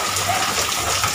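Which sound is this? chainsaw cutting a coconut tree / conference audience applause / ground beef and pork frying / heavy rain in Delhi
heavy rain in Delhi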